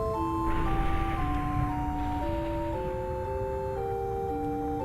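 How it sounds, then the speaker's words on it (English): Stepped electronic chime melody announcing a cable car's arrival in the Final Fantasy IX video game, clear sustained tones changing pitch over a soft mechanical hum. "The cable car to Alexandria has arrived."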